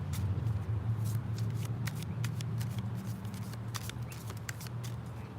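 Queen of the Moon Oracle cards being shuffled outdoors in a garden, a steady run of soft riffling and flicking card snaps over a low background hum, fairly close and continuous with no talking.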